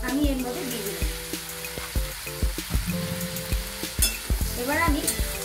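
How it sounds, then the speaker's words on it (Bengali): Boiled gathi kochu (taro) pieces fry in oil with a little salt, sizzling under irregular spoon knocks and scrapes against the pan, while sustained tonal sounds run in the background. "এবার ভালো করে একটু নেড়ে চেড়ে নেব"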